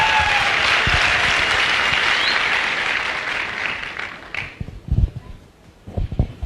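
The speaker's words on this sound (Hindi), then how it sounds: "जोरदार तालियां।" Loud, dense audience applause at a Hindi-speaking business gathering fills the first four seconds, then thins into scattered claps and a few sharp, close hand slaps before ending.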